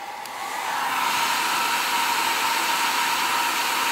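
A hair dryer switches on and blows with a steady, loud whooshing roar that holds constant to the end.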